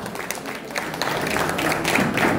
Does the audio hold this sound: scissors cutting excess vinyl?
no